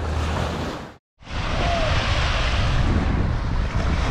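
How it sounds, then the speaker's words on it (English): Waves wash steadily onto the shore of Lake Victoria, a broad continuous surf roar with wind buffeting the microphone and a brief dropout near the start. "I want to have a dip in this Lake Victoria, the biggest freshwater lake we have in East Africa."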